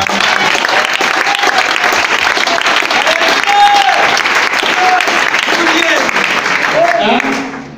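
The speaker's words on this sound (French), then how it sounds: "Acclamez pour elle" A church audience applauds and cheers loudly for a woman, sustained clapping with crowd voices mixed in, tapering off at the end.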